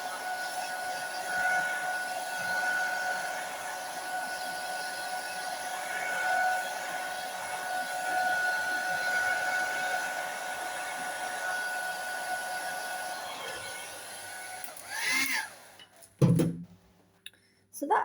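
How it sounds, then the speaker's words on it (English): Hair dryer blowing over paper craft scraps, a steady whirring hum with a tonal whine lasting most of the clip, then cutting off abruptly with a few clunks at the end. "Just going to hair dryer this."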